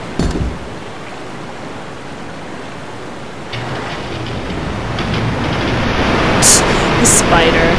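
A rushing waterfall in the Resident Evil 2 video game gives a steady, full roar that swells slightly louder toward the end, with a couple of brief higher sounds on top and no talk.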